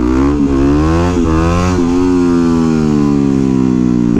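A 2009 Yamaha WR250X supermoto's single-cylinder engine holds a steady loud drone close by, with a few brief throttle blips and rev dips as it pulls along, no talk over it.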